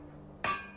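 A single sharp metallic strike of a smithing hammer at a forge in the video game Skyrim, crafting dwarven bolts, ringing briefly after a quiet start.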